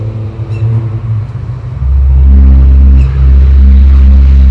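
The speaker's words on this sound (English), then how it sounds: "What you getting there was a truck instead of the bird." A truck rumbles past outdoors with a deep, steady engine drone that swells to a loud, close roar partway through and holds, with no talk.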